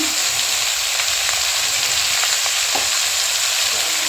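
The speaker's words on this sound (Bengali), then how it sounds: "এগুলো দিয়ে একটু নেড়ে কষিয়ে নিতে হবে।" Pumpkin, okra and hog plum pieces sizzle loudly and continuously in hot oil while being salted and stirred for a chutney, a dense, even frying hiss with faint stirring scrapes and no voices.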